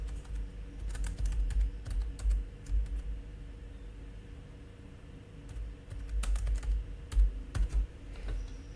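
Someone types a name on a computer keyboard in bursts of quick close key clicks separated by short pauses, over a low background hum.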